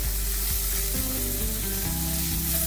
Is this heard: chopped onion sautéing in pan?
yes